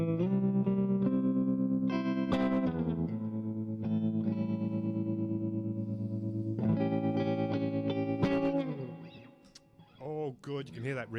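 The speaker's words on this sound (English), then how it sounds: "Good, you can hear that reverb there." Digital reverb on an Orange Crush 35RT combo guitar amplifier, heard as sustained distorted guitar chords with lush echoing tails, loud and close, ending in a few sparse plucked notes that ring out.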